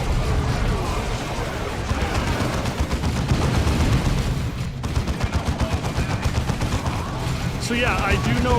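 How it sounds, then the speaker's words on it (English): Gunfire from the video game Warhammer 40k Dawn of War II, with dense, continuous volleys of rapid shots and bursts layered with battle noise, loud throughout and thickening into a rattling stream near the end. "I don't know why he's shooting over there."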